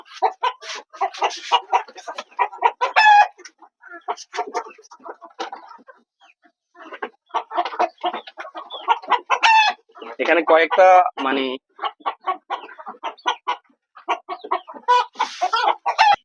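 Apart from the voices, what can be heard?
layer hens clucking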